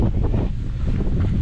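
Wind buffets the microphone outdoors in an old cemetery, a brief low rumbling gusty roar filling the short moment with no voices.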